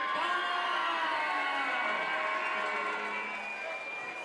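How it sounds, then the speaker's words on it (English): A crowd at a Cage Conflict mixed martial arts event cheers and whoops as a fighter is introduced, a continuous roar of voices that slowly eases off. "Folks, make some noise for Eoin McDonald!"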